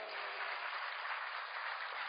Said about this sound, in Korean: 영광의 박수요.